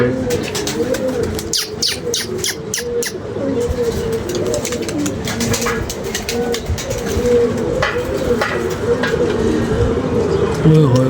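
Pigeons coo in low, repeated rounds throughout, joined by scattered chirps and some background clatter.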